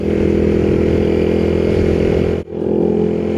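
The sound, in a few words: motorcycle riding over a bridge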